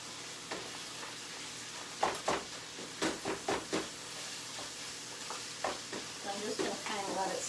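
Browned ground meat for a keto chili sizzles softly in a pot turned down to low heat, with a quiet steady hiss broken by several sharp scraping and stirring knocks.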